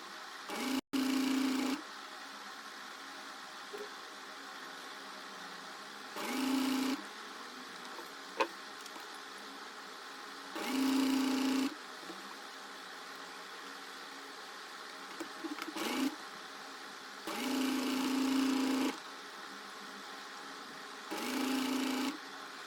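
A sewing machine stitches a double-folded fabric edge on a flared high-low top in several short runs, each a few seconds long. Quieter gaps separate the runs, with faint handling noises in between.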